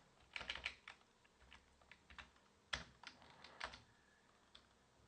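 Typing on a computer keyboard, quiet close key clicks in short uneven flurries with gaps between them, no voices.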